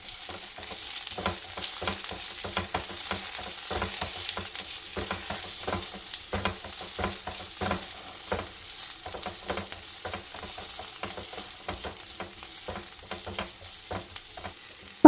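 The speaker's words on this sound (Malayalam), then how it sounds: "ഇതുപോലെ കട്ട് ചെയ്തതും കൂടി ചേർത്ത് 3 മിനിറ്റോളം വഴറ്റിയെടുക്കുന്നുണ്ട്." Chopped tomato with curry leaves sautés in a pan for a green peas masala, giving a continuous soft sizzle broken by frequent scraping strokes of stirring, close and alone.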